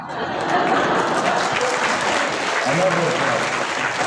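An audience at a Clinton Global Initiative event claps continuously and fairly loudly, with a voice briefly audible beneath the sustained applause.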